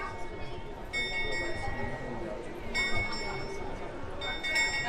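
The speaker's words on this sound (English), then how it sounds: "The skeleton's ringing the bell over here." A bell is struck by a moving skeleton figure on an ornate clock, a few bright, ringing chimes recurring at intervals beneath a crowd's murmur and nearby voices talking.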